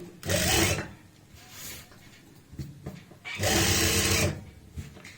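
A sewing machine stitches the lining of a kameez in two short runs of rapid, whirring needle action, with a quiet pause and faint handling noises between them.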